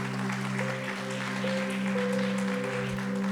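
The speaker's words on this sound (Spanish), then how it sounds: "Dele un fuerte aplauso al Señor." Church congregation applauds steadily for several seconds, a dense, even wash of clapping over a sustained organ or keyboard tone.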